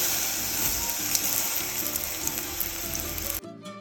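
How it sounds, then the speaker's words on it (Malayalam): Sliced banana sizzles steadily in hot ghee in a pan, a dense, continuous frying hiss close to the microphone that cuts off sharply near the end. "അതിനുശേഷം കട്ട് ചെയ്തെടുത്ത പഴം നെയ്യിലിട്ടൊന്ന് വാട്ടിയെടുക്കാം"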